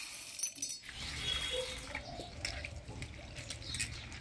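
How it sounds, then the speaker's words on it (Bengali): Chana dal lentils are rinsed in water, giving soft, faint splashing and dripping with small clinks of a vessel, close by and quiet throughout. "আমি ডালটা ধুয়ে নিই"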